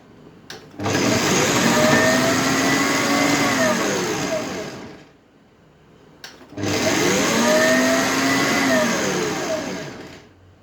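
Two long bursts of a blender whirring loudly while mixing potatoes, each several seconds long with a brief pause between, the motor pitch shifting as contents mix.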